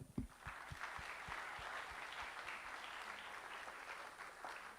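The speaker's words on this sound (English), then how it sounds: "Everybody, please, some applause." An audience at a high-level plenary on sustainable development applauds the panel with steady, moderately loud clapping that holds for several seconds.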